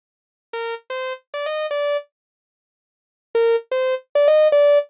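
A synth patch of a saw wave layered with a sine wave plays a short melodic phrase of four notes, repeated once after a pause, buzzy and bright over a clean low body, alone.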